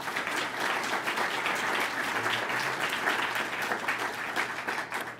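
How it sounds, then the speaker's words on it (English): A crowd applauds steadily, a dense wash of clapping that holds at an even level throughout. "Let's give them one last round of applause of thanks."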